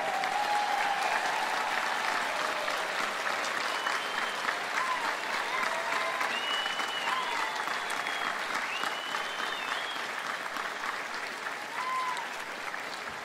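Sustained applause from a graduation ceremony audience in a hall, steady and even across the whole stretch, with scattered cheers and whistles rising above the clapping.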